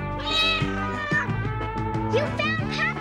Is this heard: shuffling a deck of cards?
no